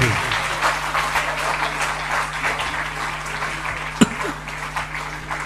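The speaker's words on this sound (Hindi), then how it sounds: "आप सभी लोग तालियों की माला इनके गले में पहुंचाएंगे" A seated congregation at a Jain religious gathering applauds during an honouring ceremony, dense steady clapping that fades slightly, over a low electrical hum, with one sharp knock near the end.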